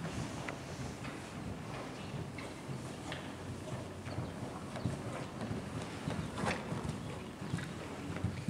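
A working horse's hooves clip-clop in a quiet, uneven rhythm, heard faintly and from a distance amid soft wind and outdoor ambience, with no voices.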